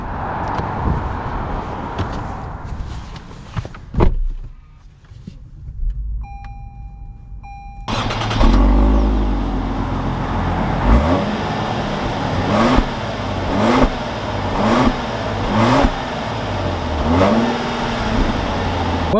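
A 2021 Lexus LS 500 F Sport starts up after a quiet stretch with a few beeps, then its engine settles into a steady idle with repeated rising revs as it pulls away, fairly close and clear.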